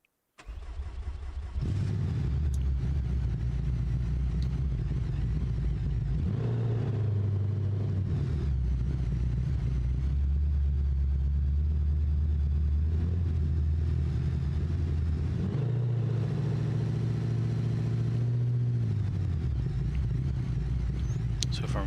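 A car in BeamNG sets off on a tarmac drag strip in Pepper Valley, its engine starting and then revving hard through several rising, steady pulls that run loud and close with no talk.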